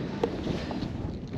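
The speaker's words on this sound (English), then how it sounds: "Windy." Strong wind buffeting the microphone, a steady roaring rush with low rumbles and no talking.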